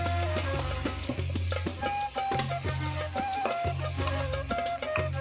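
Homemade nihari masala frying in a pan for mutton nihari, a dense sizzle with rhythmic stirring scrapes throughout, while music plays loudly over it.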